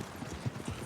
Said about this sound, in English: I feel like I hear more than just our footsteps. I hear more horses.